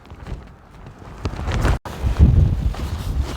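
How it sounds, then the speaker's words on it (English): Strong gusts buffet the microphone on an exposed stretch of the Pennine Way, a loud, rough roar that swells and briefly cuts out before surging back even harder. "But it's just seriously windy."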